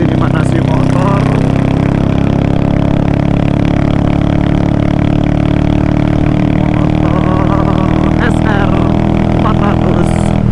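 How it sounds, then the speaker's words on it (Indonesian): A Yamaha SR400 motorcycle engine idles steadily nearby while warming up, a constant low throbbing hum with occasional faint clicks and noises over it. "siang dikit ini manasin motor"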